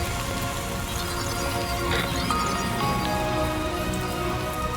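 Steady rain in the video game Death Stranding 2, a dense continuous hiss of drops on surfaces with a faint musical drone beneath, even in level throughout.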